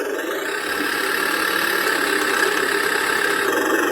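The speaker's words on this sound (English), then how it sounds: "There's a real tractor." An electronic sound simulator in a TRX4-style RC truck plays a diesel tractor engine sound: a steady, loud, buzzing idle drone that runs continuously with a slight pitch shift near the start, with no talking.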